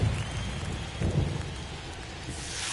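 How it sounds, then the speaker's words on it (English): Steady rain with rolling thunder in a baseball video game (The Show, Road to the Show mode); a continuous wash of downpour with a deeper rumble swelling about a second in, no voices. "It feels like we might be headed towards a rain delay if the weather doesn't ease up, Chris."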